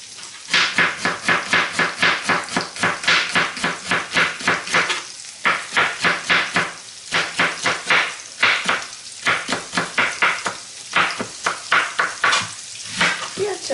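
Pork loin slices and onion fry in a pan with a steady, loud sizzle, broken by frequent rhythmic scraping and stirring strokes of a utensil against the pan throughout.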